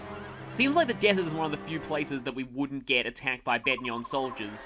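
Horses neigh in the desert setting of the video game Fire Emblem Radiant Dawn. The whinnies sit faintly beneath someone talking steadily throughout.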